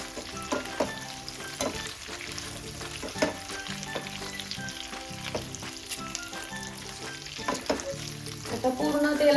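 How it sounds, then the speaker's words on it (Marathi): Stuffed okra sautéing in hot oil in a pan gives a continuous close sizzle, with occasional scraping and stirring sounds throughout. "आता आपण अशी तेलात परतून घ्यायची भेंडी। आता आपण परतून घेऊया हिला।"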